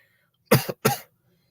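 Two short, sharp coughs close to the microphone, the first with a quick double catch, in an otherwise quiet room.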